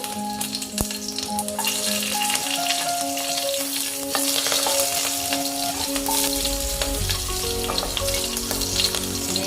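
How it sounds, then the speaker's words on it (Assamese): Three green chillies frying in hot oil alongside mustard seeds, a continuous crackling sizzle dotted with sharp pops, close and steady, with no talking. "সৰিয়হ ফুটাৰ পাছত ইয়াতে এতিয়া কেঁচা জলকীয়া 3টা দি দিছোঁ।"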